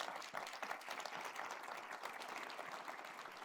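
Audience applause fills a university hall during the State of the University address at the University of North Dakota, a steady, dense clapping from a large crowd that holds evenly throughout.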